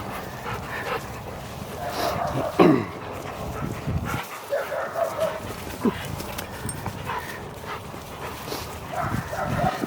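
Dogs playing together, with yips, whimpers, panting and a few barks rising and falling over about ten seconds, fairly close, while people talk in the background.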